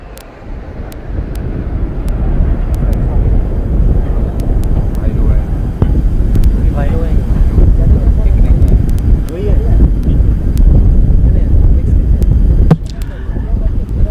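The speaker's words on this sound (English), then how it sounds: "here come the 7 Hawks in an arrowhead formation led by Captain V.A. Latif" Seven Hawk jet aircraft in arrowhead formation at a naval fleet review in Visakhapatnam pass with a sustained, loud jet roar that swells and holds. Wind noise and crowd clatter run underneath.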